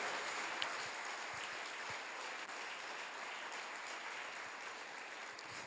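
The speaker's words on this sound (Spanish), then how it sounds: "Vamos a descontracturar un poco con un aplauso lindo al Señor." A church congregation gives a warm round of applause to the Lord. The clapping is faint and steady, heard at a distance, with a few sharper individual claps standing out from the even wash.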